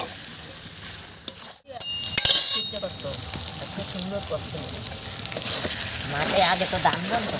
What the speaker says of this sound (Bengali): আলুগুলো দিয়ে এবার ভালো করে কষে নেব